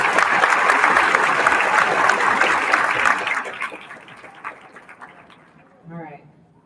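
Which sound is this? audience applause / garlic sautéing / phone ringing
audience applause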